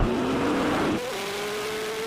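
Koenigsegg Jesko and Bugatti Chiron supercars in a drag race, one loud high-revving engine note climbing and then dropping to a steadier tone at a gear change, heard alone without talk over it.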